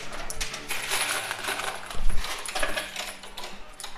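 Coins clink and drop inside an arcade coin pusher machine, a busy jumble of metallic clatter and mechanical sliding with a heavier thud of falling coins midway.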